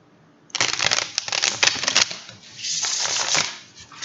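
A deck of cards is shuffled by hand, a dense riffling flutter of brisk bursts starting after a brief pause, then a second softer run of shuffling toward the end.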